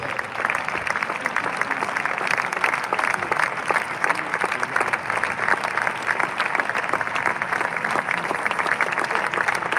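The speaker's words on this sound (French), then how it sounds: "Acclame très fort pour le Seigneur." More than 2000 worshippers clapping loudly for the Lord in a church gathering, a continuous dense wall of applause at even volume throughout, with no voices standing out.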